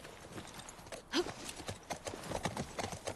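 Rapid clip-clop of horse hooves in the video game The Last of Us Part II, steady and close, with a brief whinny early on.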